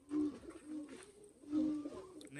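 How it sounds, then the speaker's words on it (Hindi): An old-breed Sialkoti pigeon coos close by in two soft, throaty bursts separated by a brief pause, in a quiet setting. "बहुत अच्छा शानदार कबूतर है ये"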